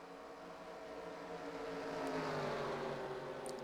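A field of 42 stock cars rolling slowly in a NASCAR Xfinity-style racing game at a track called Thornton, a steady blended engine drone that swells slightly, with no voices.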